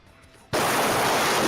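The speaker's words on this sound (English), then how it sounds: "That's the sound of a tornado." Sudden onset of a loud, dense roaring rush of wind from a tornado, cutting in abruptly after quiet and continuing as a steady broadband roar.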